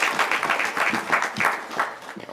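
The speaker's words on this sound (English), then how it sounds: "And I think her staff needs a big round of applause." A tribal council meeting audience gives a brief round of applause for a finance staff, a dense wash of clapping that stays fairly even before thinning toward the end.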